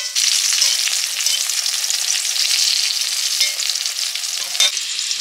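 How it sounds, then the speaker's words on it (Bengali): Brinjal (eggplant) slices frying in a pan on a home stove, a steady, close, loud sizzle with crackling oil running throughout and a brief sharper pop near the end, no voices. "বেগুন ভাজা হয়ে গেছে"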